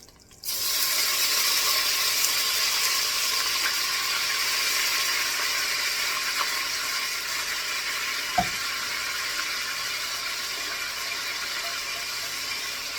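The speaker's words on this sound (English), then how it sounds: "I'm going to deglaze the pan, and then we're going to put the sauce together" A hot pan bursts into loud, dense sizzling as red wine hits it for deglazing, a near steady roar that eases slightly over time, with one sharp clink of a utensil partway through, no talking.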